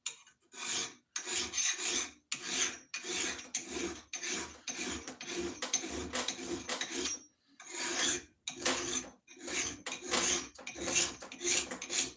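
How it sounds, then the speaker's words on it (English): An axe blade is sharpened with steady back-and-forth rasping strokes to work the burr, about a dozen rhythmic passes, close and alone, with one brief pause midway. "right now we're just pushing that burr back and forth"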